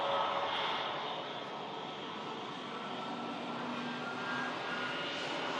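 A jet airliner with Pratt & Whitney engines roars steadily at Manchester Airport during a storm, a broad sustained engine rumble and whine with no talk over it.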